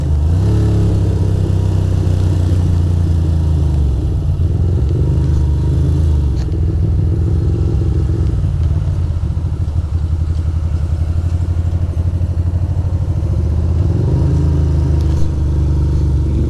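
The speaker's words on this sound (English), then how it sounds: "There's Ferrari." A Ferrari passing in city traffic, heard from a Ducati motorcycle ride through foggy, rainy Manhattan and Queens, its engine mixing with a loud, steady motorcycle drone and road noise throughout.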